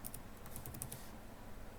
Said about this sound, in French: je vais écrire l'adresse pour obtenir le site